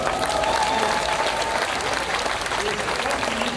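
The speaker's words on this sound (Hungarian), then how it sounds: "Nagy tapsot kérek Köteres Gézának, aki ott ül a zongoránál le." Concert audience applauding for the pianist during a vocal performance evening, a steady dense wash of clapping with faint murmuring voices mixed underneath.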